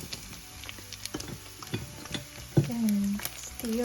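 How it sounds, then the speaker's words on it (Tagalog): Minced beef with onions just added to the browned meat, frying in a pan with a steady crackling sizzle and the scrape of stirring; a short voice-like tone rises near the end. "when the meat is already brown like this, we can now add the onions"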